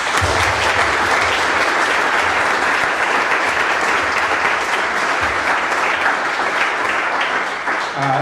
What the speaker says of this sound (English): I think we can give them a big round of applause